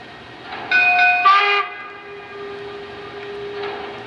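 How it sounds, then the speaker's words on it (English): A Lionel Union Pacific model train whistle sounds in short tonal blasts, followed by a sustained ringing bell tone that carries on steadily to the end. "that will get a whistle and a bell."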